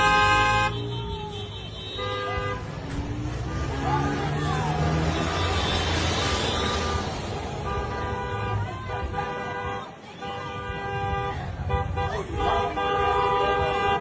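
Car horns honk repeatedly in busy street traffic, several overlapping toots and sustained blasts over a running engine rumble, with voices talking in the background.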